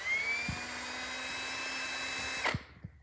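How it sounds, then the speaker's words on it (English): A power drill whirs at a steady high pitch while cleaning up the nut on brake line tubing of a 1999 Chevy 1500, running continuously before stopping abruptly with a couple of brief clunks. "now I'm just gonna use the drill"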